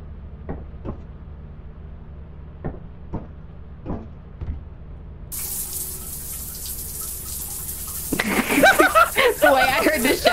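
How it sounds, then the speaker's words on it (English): A shower starts running in Lethal Company, a steady hiss of water rising midway after a few soft knocks, then growing louder as players talk over it. "The way I heard the shower start running."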